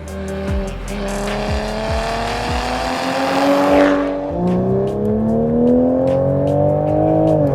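A powerful sports car engine, a Toyota Supra or Nissan 350Z, revs up close, climbing and dropping in pitch, then roars steadily as it accelerates again.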